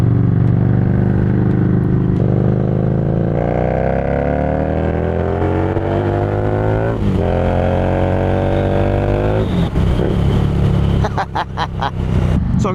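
Harley-Davidson motorcycle on a morning commute, engine rumbling loud and close with rising and falling revs as it accelerates and shifts, wind noise in the background.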